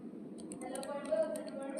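Typing on a computer keyboard, a quick run of light key clicks at close range over a faint background hum.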